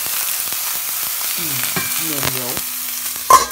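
A rib eye steak sizzles over low heat in a stainless steel pan, with steady fat crackle and spitting throughout and a brief louder pop near the end, while a voice talks over it.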